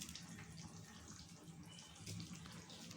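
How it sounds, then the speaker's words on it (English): Tap water runs steadily into a kitchen grinder jar for a spice paste of coriander, split gram dal, cinnamon and cloves, a quiet continuous trickle with no talking. "Add little water and grind it."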